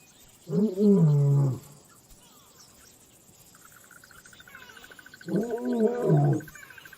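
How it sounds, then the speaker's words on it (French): Male lions roar outdoors in the wild: two loud, deep, drawn-out roars separated by a few seconds, with faint steady insect chirping in the background. "Leurs rugissements mettent les lionnes et leurs petits en alerte."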